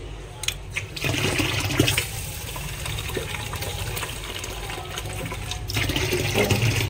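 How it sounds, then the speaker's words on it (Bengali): Water runs in a steady, splashing gush as it is poured over red lentils in a bowl to soak, filling continuously at close range. "মুসুরির ডালগুলো একটু ভিজিয়ে দিই জল দিয়ে"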